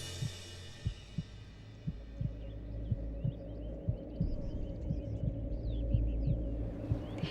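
A dramatic heartbeat effect in a Hindi devotional TV serial: steady, evenly spaced low thumps about once a second over a sustained droning hum, close and prominent, with no speech.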